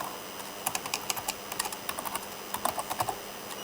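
Typing on a computer keyboard, a quiet, close patter of keystrokes arriving in short irregular bursts with small pauses, and no voices.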